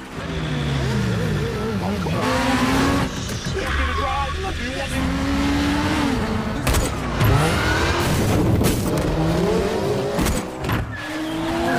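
A car speeds off during an action-movie chase, its engine revving in rising and falling sweeps with bursts of tire noise, loud and continuous throughout, mixed with other soundtrack sounds.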